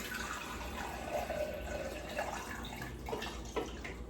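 Steady running water splashes and trickles continuously into a cooking pot, with occasional brighter drips and clinks near the end.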